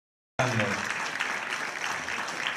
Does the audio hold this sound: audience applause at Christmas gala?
yes